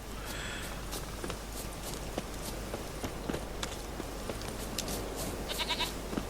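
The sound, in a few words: goat bleating in The Witcher 3 video game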